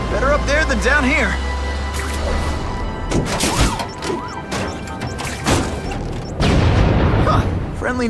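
A rigged car exploding in The Amazing Spider-Man 2 video game, heavy smashing booms and crashing impacts rising over a busy game mix of effects, music and voices, with a thick rumbling burst near the end.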